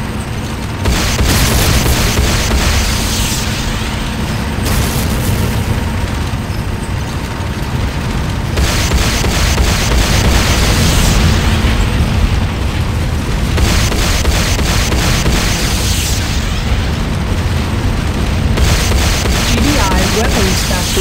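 Heavy booming blasts as a GDI Weapons Factory comes under attack in the shooter Renegade, loud dense explosions and rumbling over continuous battle noise for the whole stretch.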